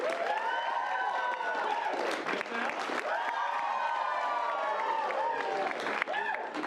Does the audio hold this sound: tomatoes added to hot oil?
no